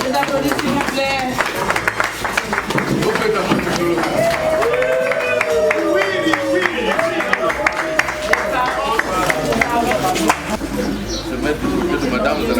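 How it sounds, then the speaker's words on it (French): Guests applaud at a civil wedding ceremony in Brazzaville: dense, continuous clapping runs through the clip, with voices and high calls rising over it. "Les applaudissements s'il vous plaît."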